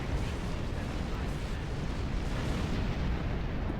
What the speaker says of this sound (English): Tactical seems very enthusiastic at shooting things at the moment.